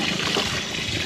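Water gushes loudly and continuously over frozen milkfish (bangus) being thawed, a dense, close pouring splash with no pause.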